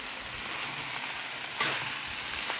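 Old-style red rice noodles are stir-fried in a wok with a spatula, making a close, steady sizzle. A sharp scrape of the spatula stands out near the middle.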